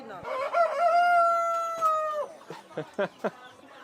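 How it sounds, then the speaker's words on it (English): A rooster crows once in Paraguay, a long drawn-out call close by, followed by a few short clucks. "Oh, there is a rooster."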